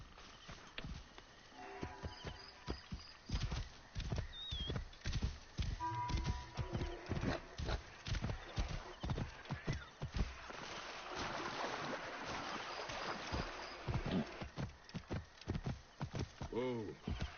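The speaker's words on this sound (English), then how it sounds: "Oh, that's right, I forgot I have a horse." Rhythmic clip-clop of a galloping horse's hooves in the video game Assassin's Creed Origins, fast and steady throughout, with wind-like rushing and someone talking over it.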